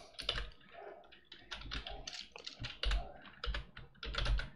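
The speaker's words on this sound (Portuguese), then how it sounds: "A gente pode segurar o shift e dar um enter." Keys clatter in irregular bursts on a computer keyboard while code is typed, including held Shift and Enter presses; close, moderately loud clicks with brief pauses and no voices.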